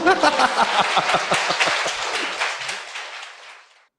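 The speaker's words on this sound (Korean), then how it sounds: "박수 부탁드립니다" A studio audience at a Korean talk show breaks into dense applause with some voices mixed in. It fills the space for a few seconds before tapering off into silence.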